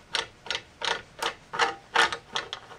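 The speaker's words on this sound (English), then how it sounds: "Now I can remove the plate by going in with a 5mm ball end hex wrench through the slot to access the bolt." Bolts on a table saw's Biesemeyer-style fence plate being loosened with a 5mm ball-end hex wrench: a close series of about eight sharp, evenly spaced ratcheting clicks and creaks in quick rhythm.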